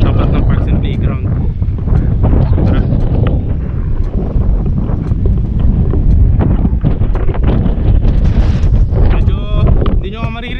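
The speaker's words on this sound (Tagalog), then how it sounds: "Medyo hindi nyo maririnig dahil napakalakas ng hangin dito guys." Strong, gusty wind buffeting the microphone outdoors at an open lot property in Silang, Cavite, a loud rumbling roar that pulses and swells throughout, with someone speaking over it.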